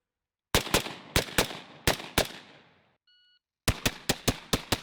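Pistol shots during a target transitions drill on multiple targets: a string of loud, sharp cracks in quick pairs, then a brief pause with a faint beep, then another rapid burst of five shots.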